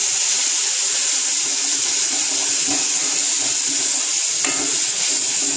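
Spices (turmeric and sambar powder) frying in a pan sizzle loudly and steadily after water is added, a close, continuous crackling hiss with no talking.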